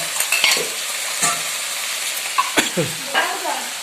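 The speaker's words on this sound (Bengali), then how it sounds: "তরকারি রান্না হচ্ছে" Vegetable curry with eggplant and ridge gourd cooks in a pan, giving a steady close sizzle with a few sharp clinks and scrapes of stirring scattered through.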